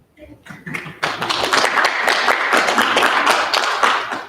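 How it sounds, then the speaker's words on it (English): An audience at a military detachment commissioning ceremony bursts into sustained applause for families, a dense, even wash of clapping that swells after a few scattered early claps and holds steady. "applaud your families, please"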